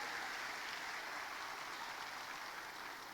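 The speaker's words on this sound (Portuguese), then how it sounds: "Uma salva de palmas para a Jaqueline." Steady, dense applause fills a church service as the congregation claps for Jaqueline, an even wash of many hands held at a constant level with no voices on top.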